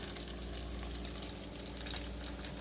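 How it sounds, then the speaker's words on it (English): Potato bites frying in about half an inch of oil in a pan, a steady dense crackle and sizzle held at an even level throughout, close by with no talking. "you got to have oil, like a decent amount, like maybe a 1/2 inch of oil in the bottom of the pan to be able to boil up on them"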